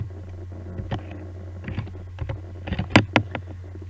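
Keystrokes on a computer keyboard while entering a command in AutoCAD 2019, a few scattered clicks then a quick cluster of sharper taps near the end, close and fairly quiet over a steady low electrical hum, no talking.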